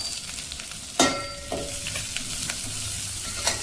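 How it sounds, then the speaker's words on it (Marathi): Chopped dry fruits sizzle in hot ghee in a pan, a steady frying hiss broken by a few sharp clinks and scrapes of a spoon stirring, close and without talk. "आता हे कट केलेले ड्रायफ्रूट्स आपण काय करू, तुपात थोडेसे तळून घेऊया."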